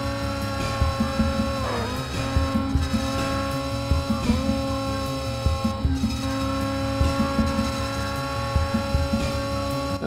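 A car engine revs in the racing video game Screw Drivers, holding a steady, buzzing high-rev drone in top gear, with brief dips and rises as the pitch shifts, and no voice over it.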